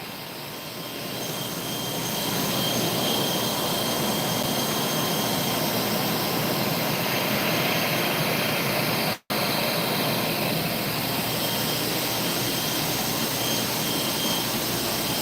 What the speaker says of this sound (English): The blowers are right there and they're very loud.